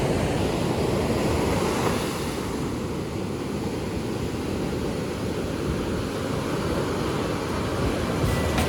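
Steady roar of ocean surf washing onto an Australian beach, continuous and broad, with no voices.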